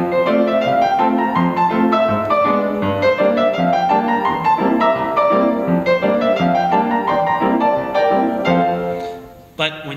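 Solo piano plays a stride tune in a straight, unswung rhythm: a loud, busy run of even chords and melody that carries steadily until a brief break at the very end.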